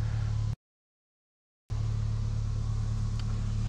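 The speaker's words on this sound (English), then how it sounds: "So the car is on right now. It'll be on all night" A Toyota Prius runs while parked overnight at a primitive campsite, giving a steady low engine hum with a broad rumble. The sound cuts out completely for about a second, then resumes at the same level.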